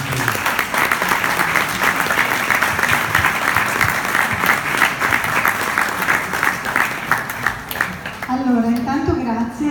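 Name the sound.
audience applause at press conference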